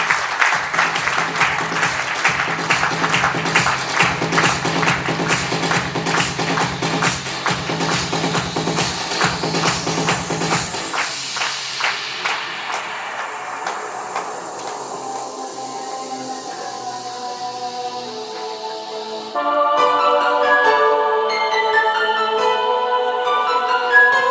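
Dense, steady clapping from a crowd at a company rewards and recognition ceremony rolls on for about ten seconds, then thins and fades away. Soft instrumental music follows.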